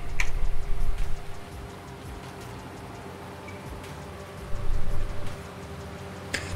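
Rain falls in the farming game Farming Simulator 19 as a steady, even hiss with scattered ticks and patters. No one speaks over it.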